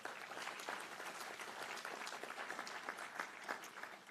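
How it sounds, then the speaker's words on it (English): Audience applause at a livestream panel on Truth and Reconciliation in sport, honoring an Indigenous Olympic gold medalist: steady, dense clapping throughout, fairly faint and even, with no talking over it. "which I think deserves a round of applause"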